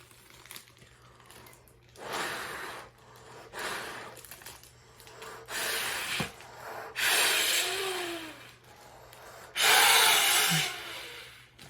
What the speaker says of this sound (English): So I'm gonna try filling this up with air instead. Probably just by breathing into it.